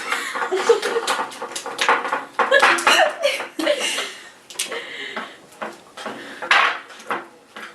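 Slime mixture is stirred in a bowl with a utensil, giving close, busy clinking and scraping in uneven bursts, while friends talk and laugh over it.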